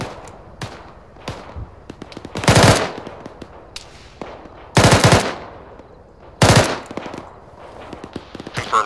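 Apache helicopter cannon fire in a military video game, three heavy rapid bursts of machine-gun rounds a couple of seconds apart, loud and close, with scattered single shots and distant thuds between them and no talking.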